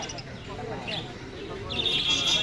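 Caged doves at a busy pigeon market chirp and call softly amid crowd noise, with voices murmuring in the background.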